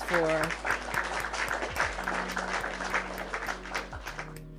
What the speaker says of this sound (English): giving you a round of applause